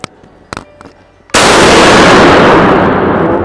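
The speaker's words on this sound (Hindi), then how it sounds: "जैसे हम इसको आगे करेंगे तो मेरी ऊपर वाली बैरल का फायर ये करेगा" A single loud, sharp gunshot from the upper barrel of a Stallion Sports STE-210 over-under sporting shotgun, cracking suddenly after a few quiet handling clicks and then trailing off in a long, ringing decay.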